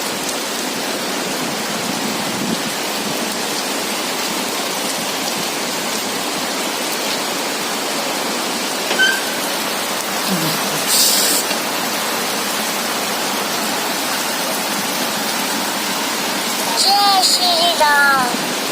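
Heavy rain pours down in Bhubaneswar as a dense, steady hiss that holds unbroken for the whole stretch, with faint voices here and there.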